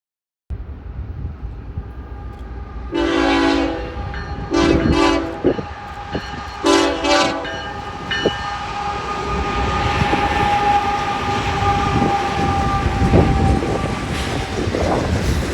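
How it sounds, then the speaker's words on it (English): A westbound freight train approaches at Baina near Tehachapi, sounding several loud horn blasts in bursts over a rising rumble of rolling cars and wheels that grows steadily louder and nearer. "the headlight of an approaching westbound train appears, so we stop to catch it."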